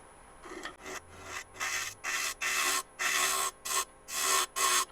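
Repeated rasping bursts of a bowl gouge cutting a spinning cored bowl blank on a lathe, about eight strokes in steady rhythm, close and fairly loud with short pauses between.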